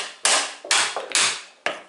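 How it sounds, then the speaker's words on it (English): Four sharp hammer blows knocking out pieces of a wood joint at uneven intervals, each a loud crack with a short ringing decay, close up. "you just break these off"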